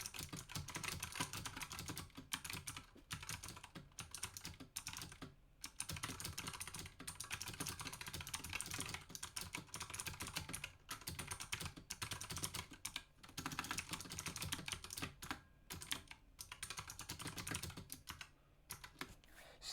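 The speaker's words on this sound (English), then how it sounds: "It sounds pretty good. I'll give you a little sound test." A Razer Huntsman Mini mechanical keyboard clatters under fast, steady typing, a dense run of crisp key clicks with brief pauses between bursts.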